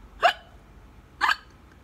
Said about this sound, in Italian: ha di nuovo il singhiozzo.